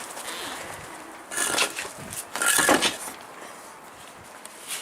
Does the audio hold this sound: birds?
yes